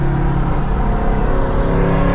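A Ford Mustang pulls hard in a 60 mph roll race, a loud, continuous engine roar with a steady, rough drone that holds for a couple of seconds, close and without speech.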